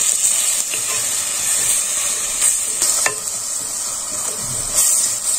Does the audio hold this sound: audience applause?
no